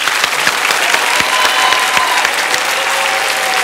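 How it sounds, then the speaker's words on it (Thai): Studio audience applause with cheering on a Thai Iron Chef cooking competition show, a dense continuous burst of clapping that stays loud and steady throughout. "ขอเสียงเชียร์หน่อยครับ"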